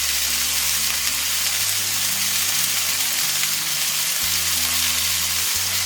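Chicken pieces seasoned with Italian seasoning sizzle steadily in a hot pan, a loud continuous frying hiss with occasional low scraping as they are moved about.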